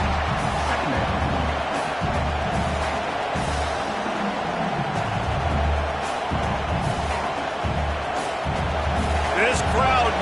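A football stadium crowd roars steadily through a live game broadcast, a dense continuous wall of cheering with swells and a few sharper bursts, heard under a play-by-play announcer's voice.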